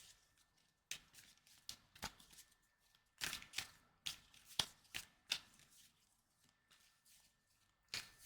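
Tarot cards shuffled by hand in quiet, a run of soft riffling flicks and sharp slaps in irregular bursts, close and fairly faint.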